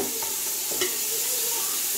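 Browned onions and freshly added chopped tomatoes sizzle and get stirred in a pan while soya chunk biryani is cooked. The steady frying hiss is moderately loud throughout, with a few soft stirring scrapes and no talking.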